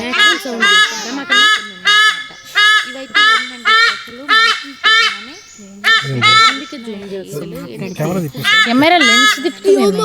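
Large birds at a Philippine eagle park call loudly in a steady series of harsh, honking cries, close and prominent, with a person talking over part of the sequence.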